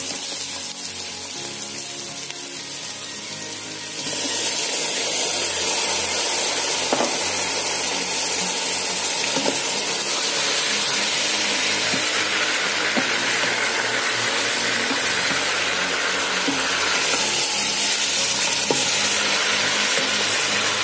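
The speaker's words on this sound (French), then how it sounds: "Je vais donc maintenant ajouter les tomates et laisser encore bien mijoter." Lamb and carrots simmer in a pot as tomatoes are added, a loud steady sizzle and bubbling that grows fuller after a few seconds, with occasional clinks of a utensil.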